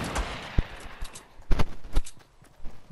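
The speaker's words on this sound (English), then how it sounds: "Is there someone shooting across?" Gunfire in the video game Fortnite comes as a handful of sharp, separated shots with quick fades, fairly close and distinct over a faint background hum.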